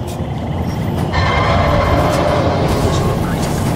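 A train rumbling along the tracks in the shooter game Crysis Warhead, a steady loud low roar with a faint metallic whine, continuous throughout.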